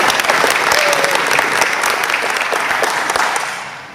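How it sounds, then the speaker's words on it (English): A Rotary club meeting audience breaks into loud, dense applause, many hands clapping together in a steady wash that holds strong and then gradually fades. "Big round of applause, very much needed."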